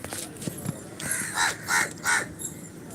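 A crow waiting for biscuits gives three loud, harsh caws in quick succession, close by, over a low background rumble.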